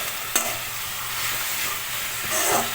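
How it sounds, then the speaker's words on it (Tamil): Dried red chillies and cumin frying in a pan for a traditional South Indian chutney, a steady loud sizzle with stirring scrapes near the start and end. "வரமிளகாயை போட்டு சீரகம் போட்டு எல்லாம் ஒன்றா நல்லா வதங்கணும்."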